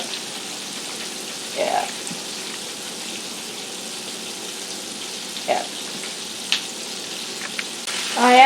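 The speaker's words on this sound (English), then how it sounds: "I actually put this temperature down to 4 because I can kind of judge the sizzle and get an idea." Southern fried chicken sizzling in a covered pan on a stovetop turned down to medium heat, a steady soft crackle throughout with a few louder pops, and a voice briefly speaks over it.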